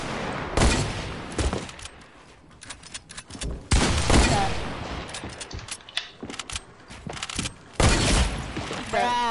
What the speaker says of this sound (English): Same, them shots hit you as well.